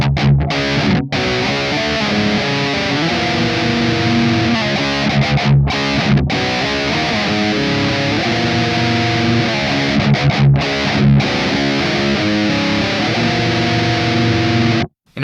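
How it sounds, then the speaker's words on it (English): A heavily distorted electric guitar plays a metal riff, sliding into a dissonant chord, with dense sustained chords and brief gaps between phrases, loud and alone. "sliding into this dissonant chord here."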